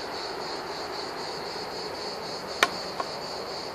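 Cicadas sing in a hazelnut orchard with a steady, high, shimmering drone throughout, fairly faint and distant, broken by a couple of sharp clicks near the end.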